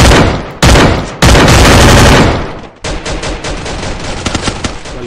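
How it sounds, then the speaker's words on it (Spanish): Loud gunfire from a house in the Free Fire video game: close bursts of automatic fire, then a rapid string of sharper shots continuing to the end, with no talk. "Desde la casa están disparando"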